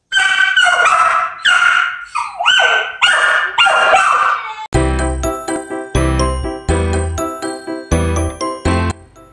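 Two Australian shepherd puppies at play, yipping, whining and barking in quick, close bursts through the first half, then a run of bright ringing, bell-like tones with no barking.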